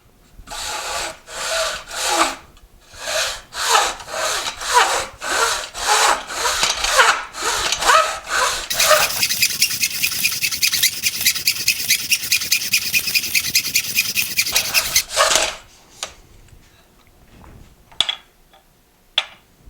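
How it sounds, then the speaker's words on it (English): A Nobex Champion hand miter saw cuts through a nearly 4-inch piece of birch hardwood with a run of steady back-and-forth rasping strokes, followed by one long continuous grinding pass and then a few light knocks as the cut finishes. "cutting through almost 4-inch piece of birch here"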